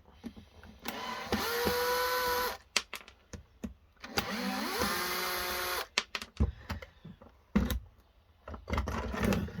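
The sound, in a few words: removing screws from a laser printer's side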